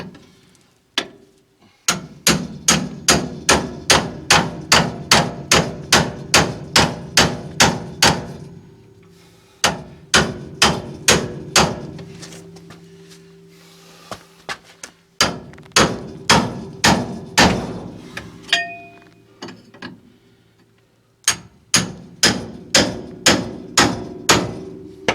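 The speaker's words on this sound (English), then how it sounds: "Put my pickle fork in here for the top one." A hammer drives a pickle fork to separate a ball joint on a 1964 Pontiac LeMans. Loud, close metallic blows come in fast, steady bursts of about a dozen strikes, with brief pauses between bursts.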